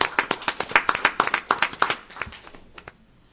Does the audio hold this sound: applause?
yes